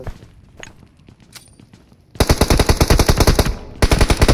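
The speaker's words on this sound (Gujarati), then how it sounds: "ઉપર ગોળી નાખી" Automatic gunfire in the mobile shooter BGMI bursts out loud and rapid in two long sustained volleys, preceded by quieter scattered shots and in-game noise.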